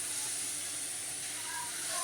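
Washed leafy greens (shak) hitting a hot pan on the stove give a steady, dense hiss and sizzle that holds evenly throughout, close and fairly loud.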